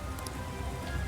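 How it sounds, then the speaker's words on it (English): Steady rain pouring down in the Persona 5 Strikers video game, a dense, even hiss of falling water that fills a brief moment with no voices. "Is this what they call rain? It just started pouring all of a sudden."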